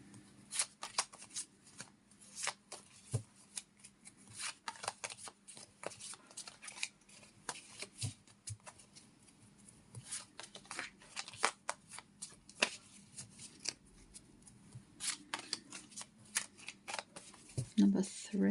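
A deck of cards, tarot-style reading cards, is shuffled by hand repeatedly with quick crisp riffles and flicks, close and fairly quiet, in an irregular rhythm throughout.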